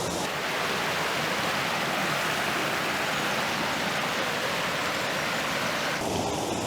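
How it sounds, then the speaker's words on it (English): A waterfall cascade in the Peak District in autumn pours as a dense, continuous rushing wash of water, loud and unchanging, dipping briefly near the end. "Just looking at a cascade here"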